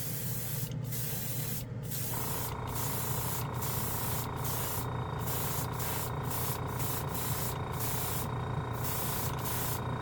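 A Gaahleri trigger airbrush sprays black base paint onto a spoon in a steady hiss, with a low dual-port compressor hum underneath, interrupted by several brief pauses as the trigger is released.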